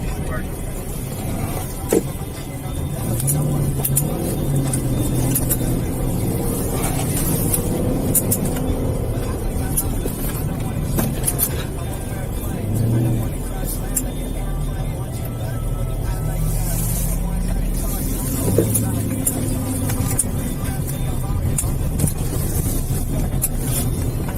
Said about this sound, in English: Pushing the car at dangerous speeds through narrow streets and school zones